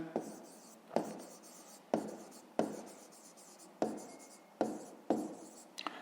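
Pen writing on paper during a fifth-grade math lesson, a series of scratchy strokes in repeated bursts about once a second, close and quiet.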